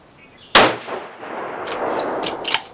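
A single loud 7mm RSAUM rifle shot, a 180 grain hybrid bullet over H1000 powder, cracks close by and rings out into a long echo, followed by faint distant clanks.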